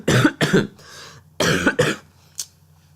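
Several close, harsh coughs from one person come in two quick pairs of bursts, loud and near, followed by a short fainter throat sound, with no talk over them.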